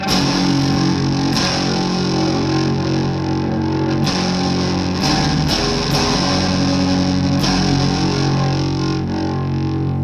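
A loud, fuzzy distorted electric guitar sustains thick chords, restruck at irregular intervals, with a dense buzzing drive throughout.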